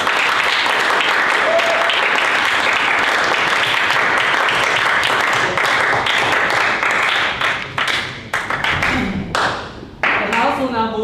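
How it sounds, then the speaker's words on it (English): Delegates at a Model UN conference clap after a resolution clause passes, with a loud burst of applause that thins into scattered claps and a voice near the end. "the clause passes and the resolution and clapping is in order."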